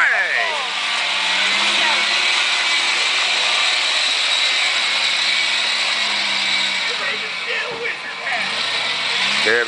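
A Toyota off-road vehicle revs hard on the coal tracks at Elk Hole, Washington, its engine a loud, sustained roar that climbs and wavers while tyres and drivetrain grind and whine, with people talking faintly underneath.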